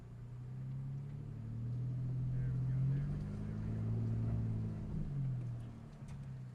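A Chevrolet ZR2 truck crawls slowly in low range up a steep embankment, its engine a steady low rumble that swells and eases over the run.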